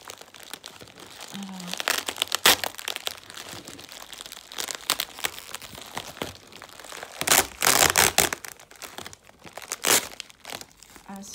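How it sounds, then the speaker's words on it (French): Paper and plastic packaging crinkle and rustle loudly as a box of fondant candles is unwrapped up close, with bursts of crumpling and tearing through most of the stretch and brief pauses between handfuls, with no talking. "je vais essayer de déballer en même temps que je filme"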